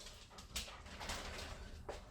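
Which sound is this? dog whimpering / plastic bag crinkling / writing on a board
dog whimpering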